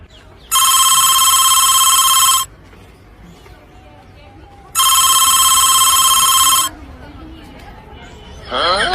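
A phone rings twice in long, bright electronic bursts separated by a short pause, loud and close, with a low room hum between the rings and a voice starting at the end.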